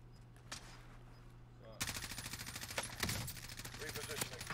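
Bursts of automatic gunfire from a squad-based battle royale video game, a quieter volley followed by sustained rapid firing that grows louder and denser, with players talking over it.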